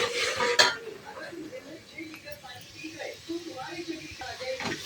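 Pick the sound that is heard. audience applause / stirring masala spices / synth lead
stirring masala spices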